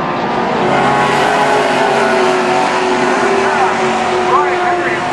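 Pro stock race cars roar around the Canaan Speedway oval during a feature race, engines droning loud and continuous with a slight rise and fall as the pack circulates, no pauses in the din.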